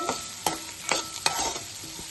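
Cashews and green chillies hit hot oil in a pan for butter chicken, giving a close, steady sizzle broken by several sharp scraping stirs and clinks, with no talk.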